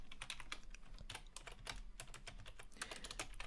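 Fast, irregular clicking of a computer keyboard as code is typed, close and steady throughout with dense bursts of keystrokes and no talking.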